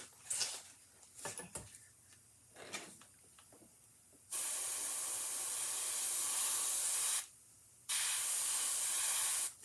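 Paint hisses from an airbrush running at about 20 psi onto a small fishing lure: soft scattered noises first, then two long, loud, steady bursts of spray divided by a short pause.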